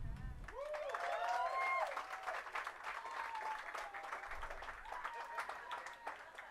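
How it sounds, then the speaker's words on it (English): An audience at a Hollywood Walk of Fame ceremony applauds music executive Mike Concepcion, broad steady clapping and crowd noise filling the whole stretch, with a PA voice and musical tones rising over it early on. "let's give a round of applause for music executive Mike"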